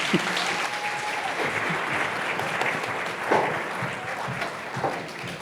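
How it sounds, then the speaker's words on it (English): An audience at a startup pitch event applauds loudly and continuously, dense clapping filling the room with a few brighter swells, no speech on top. "Big round of applause"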